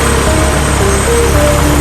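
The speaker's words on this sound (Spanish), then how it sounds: "Esto es un innovador avión con baterías eléctricas. Sus hélices se inclinan para despegar como un helicóptero." Battery-electric tilt-rotor aircraft with propellers giving off a steady, loud, continuous rotor and motor drone with faint tonal whine throughout, unbroken and close.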